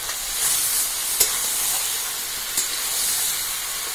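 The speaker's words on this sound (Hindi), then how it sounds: "मीट को हम भूंज रहे हैं" Mutton frying in plenty of oil in a wok over a clay stove, a steady close hiss and sizzle throughout with two brief sharper spits.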